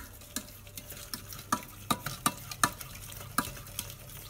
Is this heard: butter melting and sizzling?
yes